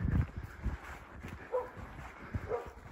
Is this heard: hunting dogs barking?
yes